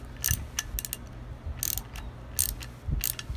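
A ratchet clicks in short bursts as bolts on a Wilwood big brake kit are tightened on a Datsun 510, quiet and close, with pauses between the runs of clicks.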